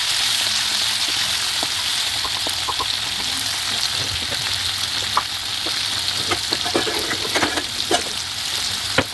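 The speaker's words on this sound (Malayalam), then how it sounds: "പച്ചമുളക്, അരിഞ്ഞു വെച്ച സവാള ഇട്ട് നമുക്ക് ഉപ്പും കൂടി ഒഴിച്ചതിന് ശേഷം നല്ലതായിട്ടൊന്ന് വഴറ്റി കൊടുക്കാം" Green chilies and sliced onions with salt and spices sautéing in a hot pan, a loud steady sizzle with scattered crackles and spoon scrapes building toward the end, no one speaking.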